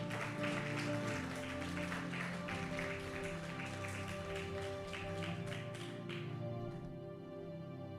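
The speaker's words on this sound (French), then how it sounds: "On acclame très fort pour le Seigneur" Church congregation applauding for the Lord, a dense, steady wash of many hands clapping throughout, heard at a moderate distance, with a sustained tone and music beneath that fade out near the end.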